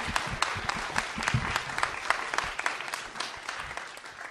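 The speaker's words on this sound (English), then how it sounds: "So first we give you applause." Applause from an audience after a software talk, many hands clapping in a dense, uneven patter that gradually thins toward the end, fairly close and without speech.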